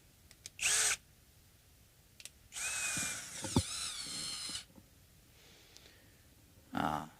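A power drill bores into a vintage Japanese Barth guitar bridge in short, close bursts, with one longer whining run and quiet pauses between them.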